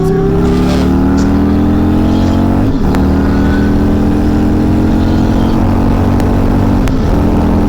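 A Honda CBR600 motorcycle engine accelerates hard on a ride, a loud, close, continuous whine climbing in pitch, dropping briefly at a gear change and then rising again.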